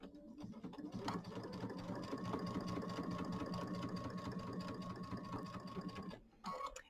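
A sewing machine runs steadily while stitching a quarter-inch quilt seam, a fast even whirring clatter held for several seconds, then stopping briefly before a short final burst of stitching.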